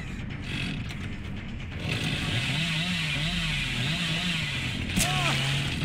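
A chainsaw revs in the Dead by Daylight horror game, a buzzing motor whose pitch wavers up and down, steady and fairly loud, with a sharp mechanical burst near the end.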